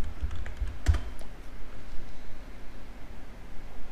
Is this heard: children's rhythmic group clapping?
no